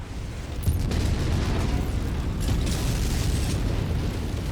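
A tank blowing up in the mech combat game Mechwarrior 5, a sudden loud boom that swells into a sustained, rumbling roar of blast and debris lasting several seconds, with no voices over it.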